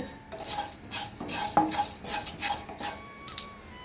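Mustard and fenugreek seeds splutter and pop in hot oil in a home kitchen, with irregular close crackles and a few sharper pops and clinks.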